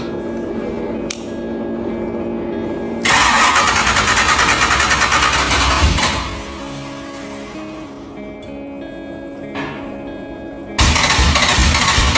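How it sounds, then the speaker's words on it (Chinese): An old eight-spark-plug engine with a suspected fuel-system fault cranks loudly and close by, breaking into rough, sputtering bursts and repeated backfires without catching. "打车的时候出现了连续的反喷，我感觉应该是这个供油系统出现了问题"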